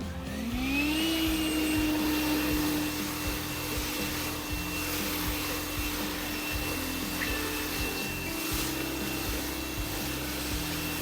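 A cordless leaf blower, apparently the Makita, runs steadily in turbo mode, a loud continuous whooshing roar that ramps up in the first second and then holds at full power, with no talking.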